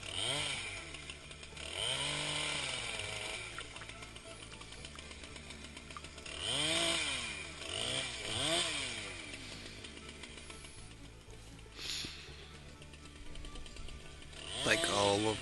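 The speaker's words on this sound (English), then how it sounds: "gotta start up the chainsaw and clear out around the tree." A chainsaw runs to clear around a dead tree before it is felled and milled, revving up and easing down repeatedly over a steady idle, loud and close.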